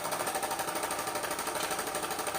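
A homemade linear generator built from PVC pipe, a syringe and magnets, its magnet-carrying piston driven back and forth by a flywheel, gives a steady, dense mechanical rattle and buzz that holds at even loudness throughout.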